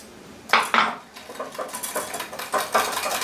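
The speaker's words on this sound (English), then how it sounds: "I am going to get my little baby whisk so I can whisk this smooth" A small whisk clinks and rattles against a bowl as it beats a coconut milk mixture, with quick, rhythmic metallic taps heard up close.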